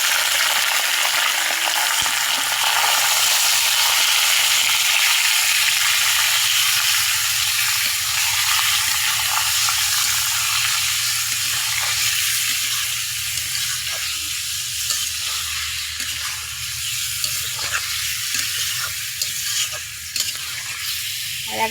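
Chicken meat for a pilaf fries in a pan with reddened onions, making a loud, steady sizzle and hiss that runs unbroken throughout with faint stirring clicks near the end.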